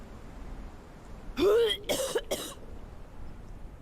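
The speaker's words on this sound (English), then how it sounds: "My character is coughing" A character in the video game Conan Exiles coughs and clears the throat in a short run of harsh rasps over a low steady game background.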